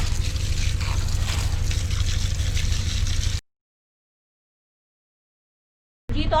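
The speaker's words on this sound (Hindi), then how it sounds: "तो अब मैं पानी चला देती हूँ और इसको धोती जाती हूँ।" Running water splashes steadily as saag greens are washed by hand in a village kitchen, a continuous rushing gush that stops abruptly midway, then briefly resumes.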